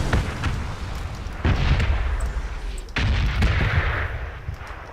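Gunfire in the battle-royale video game PUBG (Battlegrounds) comes as three loud, close, booming bursts spaced about a second and a half apart, each trailing into a rumbling tail.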